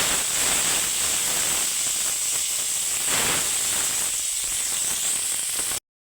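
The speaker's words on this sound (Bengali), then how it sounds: "দেখো ওই ভোলা মাছটা যে ভাজা হয়েছে ওই তেলে আমি উচ্ছা আলু কষে দিচ্ছি।" Bitter gourd and potato pieces fry in mustard oil left over from frying bhola fish. A steady, loud hiss and sizzle runs unbroken for about six seconds, then cuts off abruptly.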